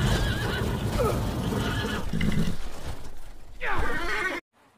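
Horses neighing loudly and galloping through thick snow, shrill whinnies over a dense, muffled rush of hooves that swells, then cuts off abruptly to silence.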